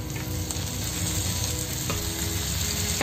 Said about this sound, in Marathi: तर आता आपण तेल घालूया.